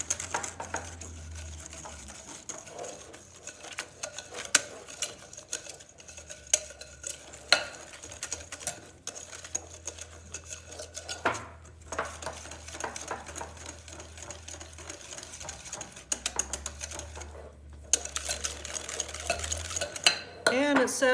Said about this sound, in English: Make sure to mix it very well so you don't have any lumps.